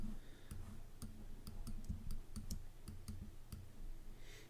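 A computer mouse clicks repeatedly while someone works in Adobe Illustrator, a string of crisp, close, irregular clicks against a quiet background.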